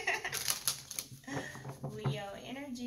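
Tarot cards being shuffled by hand, giving a burst of crisp, rapid papery clicks and riffles close to the mic while a voice keeps talking over them.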